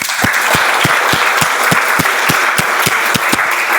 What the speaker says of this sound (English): with a huge round of applause, let's all welcome the Toastmaster of the Day